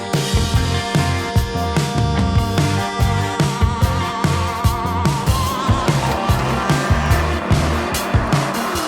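A Mercedes-AMG GT 63 4MATIC+ Coupé drives with a loud, throbbing exhaust, its engine note pulsing rhythmically close by, steady and aggressive throughout.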